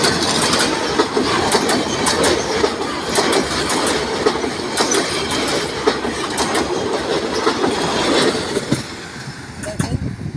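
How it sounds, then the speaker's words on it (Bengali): A small local train of seven coaches rushes past at high speed, with loud, close rumbling and rapid clickety-clack wheel beats sustained throughout, plus occasional metallic squeal. "ট্রেনটা আসছে, আপনারা একটু দেখেন যে ট্রেনটা আসছে। অত্যন্ত অত্যন্ত গতির বেগে আসছে।"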